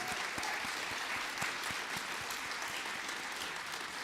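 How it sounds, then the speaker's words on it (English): A luncheon crowd at the Frosty Festival gives warm applause, many hands clapping at a steady pace with a few sharper claps standing out, fairly quiet and heard from some distance. "Give them a big round of applause"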